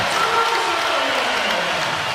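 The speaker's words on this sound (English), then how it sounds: "Crowd trying to urge on their Raptors." Basketball arena crowd urging on the Toronto Raptors: a steady, loud wash of cheering and crowd roar, continuous for a couple of seconds.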